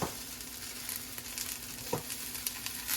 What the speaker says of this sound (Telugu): ఇప్పుడు మన స్ప్రింగ్ ఆనియన్స్ వేసేసుకుందాం.